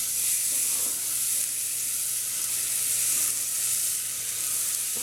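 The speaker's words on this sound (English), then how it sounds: "now we're just going to saute the onions and what was left of the bacon" Onions and leftover bacon sauté in a pot, a loud, continuous close sizzle with an even frying hiss and faint stirring, no voices present.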